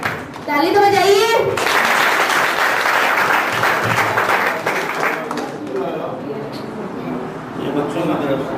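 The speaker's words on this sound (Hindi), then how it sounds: "ताली तो बजाइए।" A school farewell crowd, many children among them, bursts into loud, dense clapping that holds for several seconds and then tapers, with a voice talking over the start and end.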